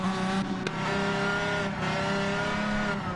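A race car engine in a racing video game screams at high revs, a loud, sustained, harmonic-rich whine that holds steady throughout with slight pitch shifts. No voices are heard.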